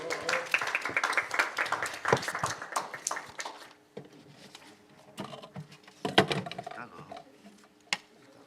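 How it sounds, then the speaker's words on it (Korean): Audience applause at a Korean policy debate forum: a dense burst of clapping that thins out after a few seconds, followed by scattered claps and room noise. "다시 한번 큰 박수 부탁드리겠습니다"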